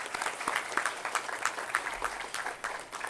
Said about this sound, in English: welcome our chief guest, Dipali Lohar, with a huge round of applause